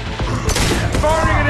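Rapid bursts of gunfire in a shooter video game, loud and close, with a voice calling out over the shots.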